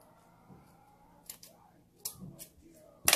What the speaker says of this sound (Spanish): Las tijeras no están tan buenas.